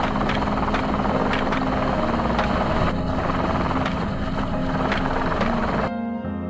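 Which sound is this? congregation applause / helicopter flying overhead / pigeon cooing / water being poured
helicopter flying overhead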